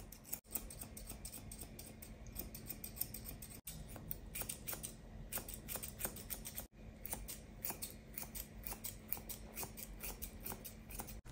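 Scissors snip steadily and rapidly while the legs of a wire haired fox terrier's coat are trimmed long during a grooming session. The blades click in quick, close, even bursts with brief pauses between runs.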